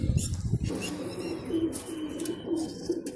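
Pigeons kept under a rooftop umbrella, being dosed with liquid medicine from a cup, coo softly in repeated low bursts, with faint wing flutters and a few brighter chirps overhead; nobody talks.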